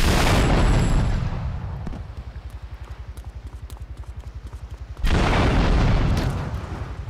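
An explosion in GTA 3 opens with a loud, broad blast that rumbles away into a steady rapid pulsing drone, then a second heavy blast bursts in near the end.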